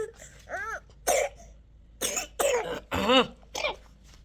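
A child coughs several times in short, harsh bursts, close up, with brief pauses and a small vocal sound between the coughs.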